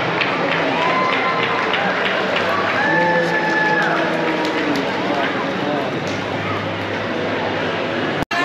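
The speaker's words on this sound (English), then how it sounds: "there's a big crowd we can't really see" Large crowd murmuring at the Alaska State Fair pumpkin weighing, a steady dense wash of many voices with some distinct talk rising above it throughout, ending in a sharp brief knock.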